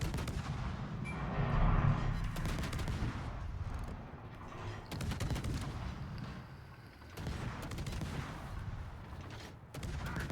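The Kitakaze destroyer's naval guns fire HE shells in World of Warships, a string of heavy booming salvos with rumbling tails, repeating at irregular intervals over a constant battle din.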